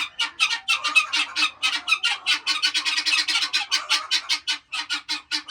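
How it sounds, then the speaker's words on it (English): Guinea fowl call loudly and continuously, a rapid chorus of harsh, rhythmic squawks close by with no other sounds. "Oh, there's the guineas. Oh, they don't want me here."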